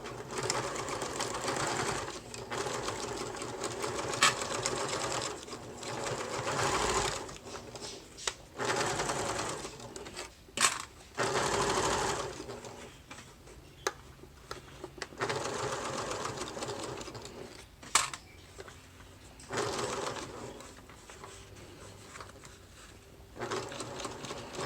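A sewing machine stitches around a clutch bag in steady rattling bursts, pausing briefly between runs, close and fairly quiet, with occasional handling clicks.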